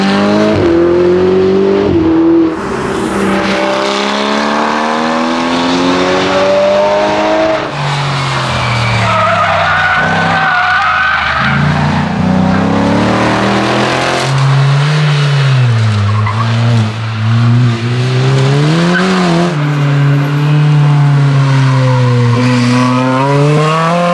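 Ferrari sports cars at a track day, engines revving loudly with pitch sweeping up and down as tires squeal through skids, a continuous close roar with no talking.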